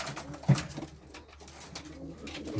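Low, soft pigeon cooing close by from healthy pigeons, a murmuring call repeating over a quiet background.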